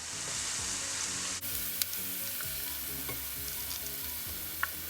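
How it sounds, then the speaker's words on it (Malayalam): Garlic frying in hot oil for a garlic pickle: a dense, steady sizzle and crackle close by, with a few scraping stirs and small pops, no voice. "ഇപ്പം നമ്മുടെ വെളുത്തുള്ളി ഒരുവിധം വഴന്ന് തുടങ്ങിയിട്ടുണ്ട്"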